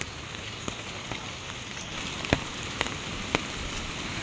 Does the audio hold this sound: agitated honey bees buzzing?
no